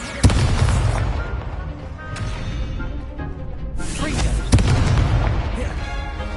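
In the game Hogwarts Legacy, a levitation spell and other combat magic go off as sharp cracks and booming bursts. Two strong impacts and several smaller ones land in quick succession, loud and close, with brief lulls between them.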